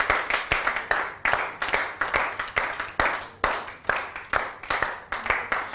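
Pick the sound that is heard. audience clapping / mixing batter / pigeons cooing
audience clapping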